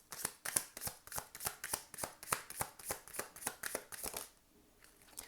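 A deck of oracle cards shuffled by hand, riffling in a quick, even rhythm of about a dozen soft bursts, close and quiet, then it stops.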